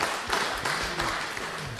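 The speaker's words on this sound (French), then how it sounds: "Vous pouvez vous applaudir" An audience at a live early-morning podcast recording applauds, a dense patter of clapping throughout with voices mixed in.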